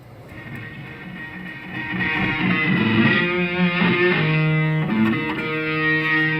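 An electric guitar plays sustained, heavily distorted notes and chords through the distortion algorithm of an Eventide H9 effects unit, thick and buzzing, growing louder after the opening and ringing on without talk.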